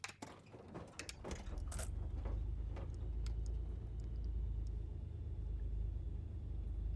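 Propeller aircraft engine in X-Plane 11 cranks over with a few sharp clicks, then catches into a steady, loud low rumble that holds for several seconds with no talk.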